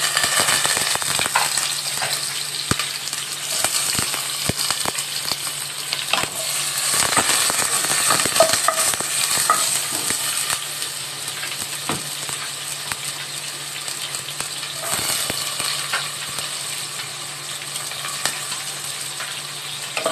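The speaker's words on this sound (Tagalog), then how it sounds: "igigisa ko na lang. Kasi meron akong bagoong na alamang." Shrimp paste (bagoong alamang) sautéing in a pan: a steady, crackling sizzle runs throughout, broken by scattered scrapes and clicks of stirring. No one speaks.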